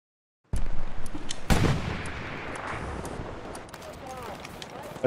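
Gunfire in the video game Hell Let Loose: a sharp shot, then a heavier blast a second later, followed by a rolling rumble and scattered distant cracks, with faint voices in the mix.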